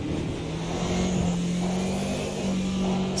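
A BMW 2002 race car engine in the Automobilista 2 sim racing game, set at the 1971 Nurburgring, drones steadily at a held pitch with a brief rise and fall, continuous and fairly close, with no talk.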